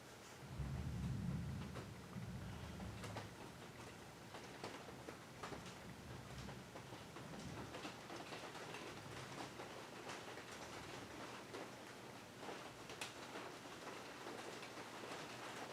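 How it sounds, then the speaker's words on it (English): Rain drums on a metal studio roof, a steady faint patter throughout with a low rumble early on, soft and even with no talking. "My studio is metal, and when it rains, it's a"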